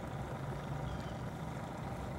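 A Yamaha 150 horsepower outboard boat engine runs with a steady, even drone and a low rumble throughout, with no voices over it.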